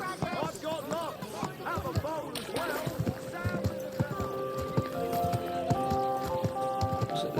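Horse hooves in Kingdom Come Deliverance 2, a steady clip-clop of a horse moving at an even pace, heard under a man's speech and game music.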